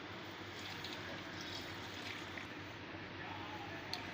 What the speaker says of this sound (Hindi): अब हम इसमें दूध डालेंगे।